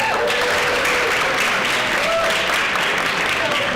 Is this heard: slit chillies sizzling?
no